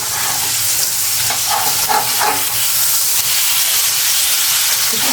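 Chicken pieces fry in a hot pan for a chicken bread sandwich, giving a loud, steady, dense sizzle throughout with no voices.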